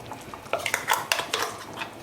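A spoon scrapes and clinks against a pot while thick lima bean curry with ground coconut is stirred, with several light knocks spread irregularly and no voices.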